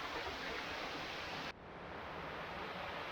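Waterfall deep in a jungle, a steady broad roar of falling water that fills the scene, dropping slightly in brightness partway through but continuing unbroken with no voices.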